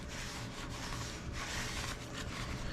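Grease is wiped out of the inside of a K20 transmission shaft, giving a close, continuous scrubbing and rubbing that swells and eases in uneven strokes, with no voices.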